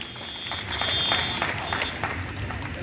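Audience clapping at a Ramlila event, a moderate burst of applause swelling briefly and easing off over a few seconds, with some crowd noise mixed in.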